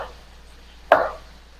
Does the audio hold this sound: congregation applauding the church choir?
no